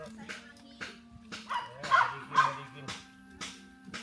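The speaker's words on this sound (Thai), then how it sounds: "ดาวไปเห่าหนูเชยอยู่" A dog barks outdoors on a Thai fishing outing, a string of short sharp barks and yips repeated roughly every half second, fairly near, with people talking over it.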